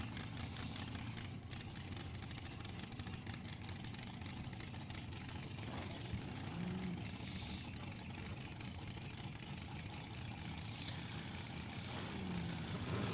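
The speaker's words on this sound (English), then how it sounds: "That nice little crispy exhaust note coming out of Freddie Perkins' car with that Pro Charger." A drag racing car fitted with a ProCharger centrifugal supercharger idles steadily at a dragway, its crisp exhaust note a constant mid-distance rumble amid open-air ambience.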